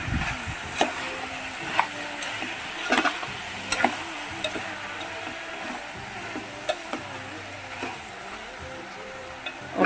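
Masala curry with tomatoes newly added sizzles steadily in a frying pan, broken by scattered stirring clicks and scrapes of a spoon against the pan, close and fairly quiet with no talk.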